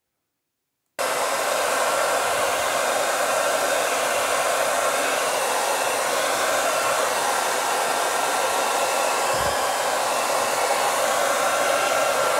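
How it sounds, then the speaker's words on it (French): A hair dryer blows steadily and loudly after a brief silent start, drying a stained stone floor tile in a continuous, even whoosh with no talk over it. "on va sécher avec le sèche-cheveux"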